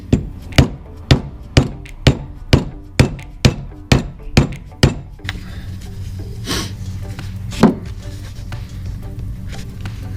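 Ten sharp, evenly spaced hammer blows ring out on a size 12 metric socket, driving a Hasport motor mount bushing out of an EG Civic mount, then shop noise and a single later knock follow.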